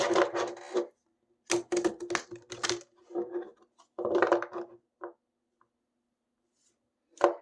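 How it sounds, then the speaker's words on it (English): Deck of tarot-style cards pulled from the side and shuffled by hand, several quick riffling and rubbing bursts with pauses between, close and dry, ending in silence with a final short flick. "I'm going to grab the cards from the side and pull and shuffle"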